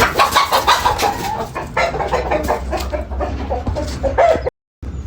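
Brooding hens on a poultry farm that also keeps pigeons cluck close and loudly in repeated bursts, one over another, with a short drop to silence near the end.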